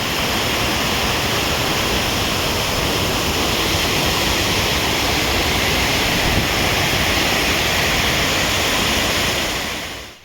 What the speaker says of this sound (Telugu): ఈ వాటర్ ఫాల్ అయితే ఎంత ఎక్సలెంట్గా ఉందో